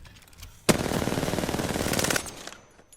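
Rapid sustained burst of R99 submachine gun fire in Apex Legends, a dense loud automatic stream lasting about a second and a half, then trailing off.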